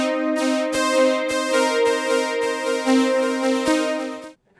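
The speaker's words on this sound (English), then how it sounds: "since this is more of a lead sound, I'd like to fatten it up a little bit by adding some unison" Elektron Digitone synth lead thickened with two-voice unison and wide spread, a bright buzzy tone playing a steady sequence of rhythmic notes, loud and alone, ending abruptly.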